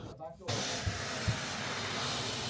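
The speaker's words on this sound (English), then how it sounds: "So we're going to try and wet this windshield down and see where it's coming from." Hose water sprays onto the windshield of a Holden with a 5.0L V8, a steady broad hiss that starts abruptly and runs on, with a voice briefly heard at the start.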